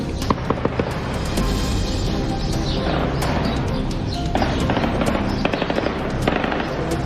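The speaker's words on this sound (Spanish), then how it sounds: "En varios lugares de la localidad se escucharon los balazos." Rapid bursts of sharp gunfire crackle continuously over a noisy outdoor background in a Mexican town, with dense, overlapping shots at varying distances.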